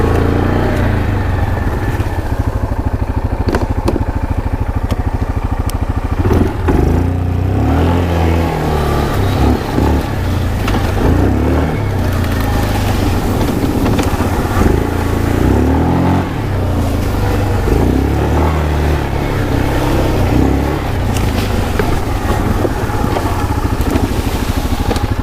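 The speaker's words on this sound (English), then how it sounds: "Show you some of the engine braking here in four-wheel drive low." A Yamaha Kodiak 450 EPS ATV engine drones loud and close while descending a trail hill in four-wheel drive low, rumbling steadily under engine braking with occasional throttle swells.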